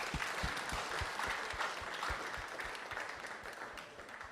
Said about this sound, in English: but first a round of applause